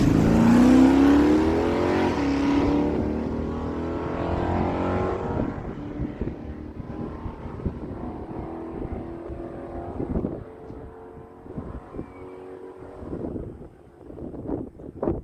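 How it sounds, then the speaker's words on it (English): Drag racing at a dragway, a 1980 Pontiac Trans Am and a 1968 Plymouth Barracuda, loud engines roaring down the track and fading into the distance, leaving wind noise and faint scattered sounds afterward. "Derek Purdy bringing that machine in, 68 Plymouth Barracuda"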